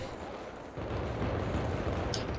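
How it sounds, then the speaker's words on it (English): Fireworks going off in the video game Thief of Thieves, a dense, continuous booming rumble that grows louder partway through, with a brief crackle near the end and no voices over it. "Fireworks. Cool."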